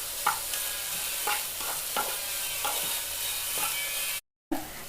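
Ripe bananas sautéing in a pan with cardamom powder are stirred in irregular scraping strokes over a quiet sizzle. The sound cuts out briefly near the end.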